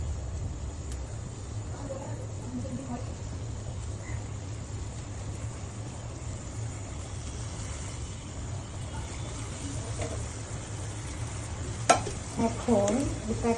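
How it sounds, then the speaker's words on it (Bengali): Koi fish added to a pan with water over raised heat, giving a steady, moderate sizzle and bubbling with light stirring and utensil scrapes near the end. "এখন এখানে আমি মাছগুলো ছেড়ে দিব।"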